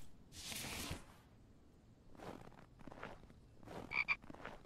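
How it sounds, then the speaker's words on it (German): Frogs croak in short, soft bursts within the survival crafting video game The Infected, several separate calls spaced across a quiet ambient background with no talking. "Ich habe unsere Freunde die Frösche gesehen."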